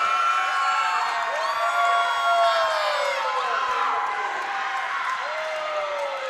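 Crowd in a gym at a college volleyball championship match cheering and whooping, a loud sustained roar of voices with high shouts rising over it, with no break in the noise.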